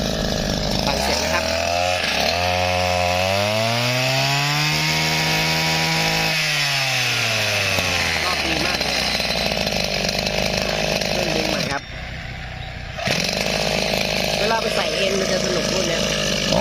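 A Shindaiwa brush cutter's small two-stroke engine screams at very high revs, its pitch swooping up and down, then cutting out briefly before roaring back, loud and close.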